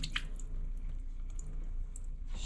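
Tomato seeds in their gel poured into a container, quiet wet squishing and dripping sounds heard up close, with a brief louder splash at the start and another near the end.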